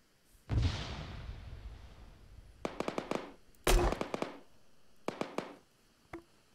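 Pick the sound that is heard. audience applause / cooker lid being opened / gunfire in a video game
gunfire in a video game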